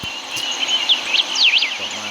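A bird calls from a tree in the video game Everlasting Summer, with quick warbling, chuckling chirps rising and falling over an airy outdoor ambience.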